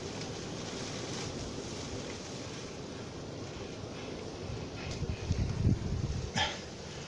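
Blizzard wind in a whiteout roars steadily as a broad rushing noise, buffeting the microphone with heavier low gusts toward the end.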